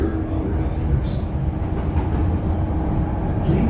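Chicago L Green Line train pulling out of a station on the South Side, a steady close rumble and rattle of the railcar from inside, continuous throughout with no clear speech.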